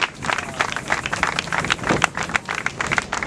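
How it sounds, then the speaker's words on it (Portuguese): Church congregation applauding, a dense, continuous burst of many hands clapping together, loud and lively with fluctuating intensity throughout, no speech over it. "Uma salva de palmas ao Senhor Jesus Cristo."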